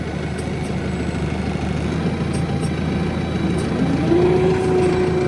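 A Deutz Fahr tractor pulls a 36-disc harrow with a loud, steady low engine drone that strengthens and rises slightly in pitch near the end, with no voices.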